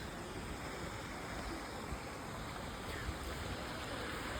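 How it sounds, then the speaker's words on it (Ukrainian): A small waterfall at a zoo splashing into a pool, a steady, even rush of falling water heard from nearby and continuing unbroken throughout, with no voices. "Там у них навіть свій водоспад особистий."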